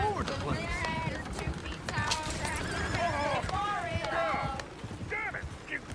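Horses neighing and whinnying repeatedly over galloping hooves in Red Dead Redemption II, several loud cries overlapping with shouting voices in a chaotic scene.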